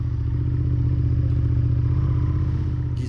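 A motorcycle rides around a race track, its engine droning loud and steady throughout with a low rumbling pulse.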